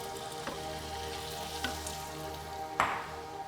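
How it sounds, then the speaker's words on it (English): Kimchi crackles and sizzles steadily in hot oil, with a few light scrapes and taps of a utensil stirring the pan. "I'll start by frying the kimchi"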